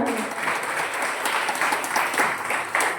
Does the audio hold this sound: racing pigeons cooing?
no